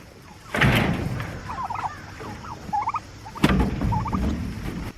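Turkeys gobble in short rattling bursts, several calls overlapping at moderate distance, with a couple of sharp thuds and scuffles in between.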